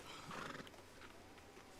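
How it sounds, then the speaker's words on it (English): A horse whinnies with clip-clopping hooves in the Red Dead video game, a short, fairly faint neigh followed by steady hoofbeats, with no talking. "Finally, my horse shows up."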